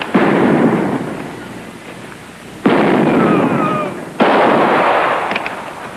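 Rifle shots ring out in a 1983 Bob Hope comedy western scene, three loud booming reports spaced a couple of seconds apart, each with a long echoing rumble and some faint ricochet whines.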